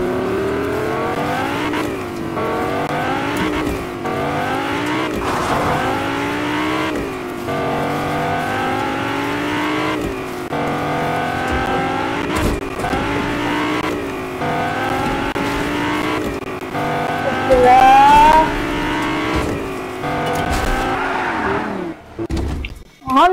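A car engine revs and shifts through gears in repeated rising sweeps, loud and close, with a brief squeal late on.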